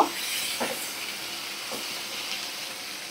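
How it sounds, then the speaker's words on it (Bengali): Ginger-garlic paste sizzling steadily in a frying pan while it is stirred for a fish jhuri, a constant hissing fry with a few faint scraping strokes, no talking. "আদা রসুন বাটা দিয়ে আমি ভালো করে নাড়াচাড়া করে নেব"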